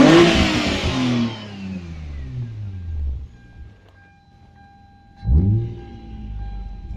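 A Hyundai Tiburon's 2.7 liter engine is blipped twice nearby, the first rev rising then slowly winding down to a quiet idle before a second sharp burst of revving.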